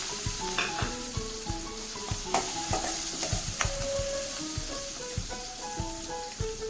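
Chopped onion and green chilli pieces frying in oil in a pan, a steady sizzle punctuated by repeated metallic spatula clinks and scrapes against the pan in a busy, irregular rhythm.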